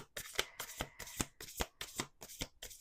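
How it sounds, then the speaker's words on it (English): Tarot cards shuffled by hand up close, a quick run of crisp riffling bursts repeating roughly twice per second, with no talk over them. "2 more shuffles."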